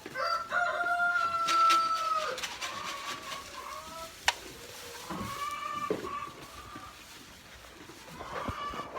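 Chickens cluck on a farm with organic feed while a rooster crows, with repeated calls running through the background along with a short sharp knock midway.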